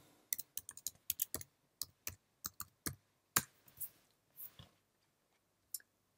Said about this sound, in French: Je vais taper mes mots-clés.